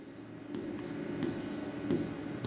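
A pen writes on paper in steady, continuous scratching strokes with a few brief pauses, close and fairly quiet, with no talking over it.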